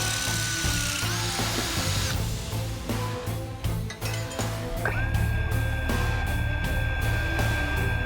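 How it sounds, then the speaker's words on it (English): A power drill whines up and down in several bursts, drilling 1/8 and 5/16 inch holes in a steel bracket with steady grinding and rising pitch changes, close and loud. "I'll start with an 1/8 inch drill bit and then step up to a 5/16"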